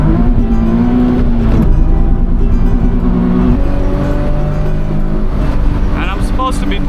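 Nissan 370Z Sport Coupe with a six-speed manual gearbox, its engine droning and rising in pitch on a spirited drive, loud and close from inside the cabin, with someone talking over it.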